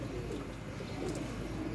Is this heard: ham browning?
no